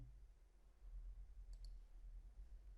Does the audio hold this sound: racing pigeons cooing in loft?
no